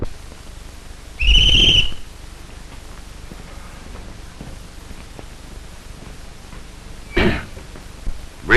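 A whistle blown twice, first with a loud sustained shrill blast and later with a shorter, fainter one, over steady hiss and background noise with no speech.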